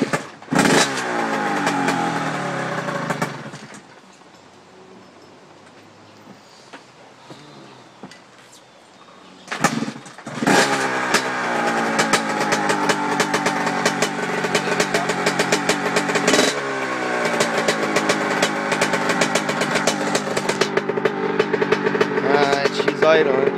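A 2004 Honda CR85R dirt bike cold-started without the choke, its two-stroke engine popping to life, dropping to a quieter idle, then crackling and revving up loudly again in sharp repeated bursts, with speech mixed in.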